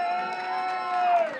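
A stand-up comedy audience cheers and whoops, voices shouting over a short burst of crowd noise with light clapping mixed in.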